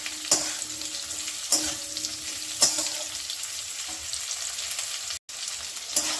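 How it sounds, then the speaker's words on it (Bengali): Cauliflower fries with onion and whole tempering spices in a pan, making a steady close sizzle broken by a few sharp spatula scrapes at regular intervals and one brief dropout near the end. "পেঁয়াজ ওই মশলার সঙ্গে, ফোড়নের সঙ্গে আমি ফুলকপিটাকে একটু ভেজে নিচ্ছি।"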